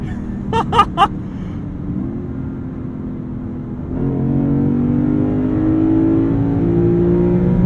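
A 2023 Lexus IS 500 with its V8 engine builds revs, then accelerates hard with a deep, loud roar that climbs in pitch. A brief voice is heard at the start.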